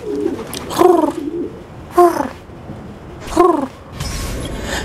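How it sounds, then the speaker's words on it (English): Pigeons at a pigeon coop in Assassin's Creed 2 give three separate cooing calls at even intervals, loud and close, with creaking mechanical sounds between the calls. "That is my pigeon coop."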